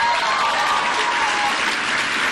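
A crowd at an election-weekend town hall for a congressional candidate applauds in a dense, even roar of clapping that holds steady and loud throughout, with no voices rising above it.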